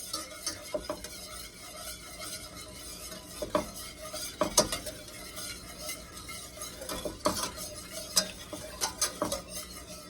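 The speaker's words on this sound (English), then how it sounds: "Okay, our butter is melted, so we are going to slowly add in our cream." Cream being stirred into melted butter in a pan, a steady scraping swirl broken by sharp utensil taps and clinks against the pan, faint sizzle underneath, close and fairly quiet with no talking.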